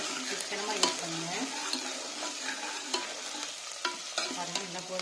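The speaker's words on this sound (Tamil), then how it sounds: "இஞ்சி பூண்டு வெங்காயம் எல்லாமே நல்லா பொறிஞ்சு வச்சு" Ginger, garlic and onion frying in a pan while being stirred, with a steady close sizzle punctuated by scraping spoon strokes against the metal throughout.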